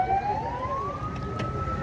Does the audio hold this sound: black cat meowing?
no